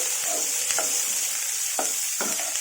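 Curry leaves and onions sizzle in hot oil for a Telugu buttermilk curry with bajji chillies, a steady loud frying hiss broken by a few scraping stirs of a spatula.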